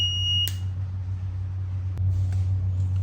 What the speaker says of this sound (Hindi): उजाला हो रहा है इसका मतलब अलार्म बज रहा है